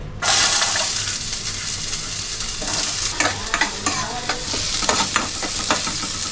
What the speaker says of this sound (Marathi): आता आपल्या साजूक तुपामध्ये आपल्याला ऑनियन रेड करून घ्यायचे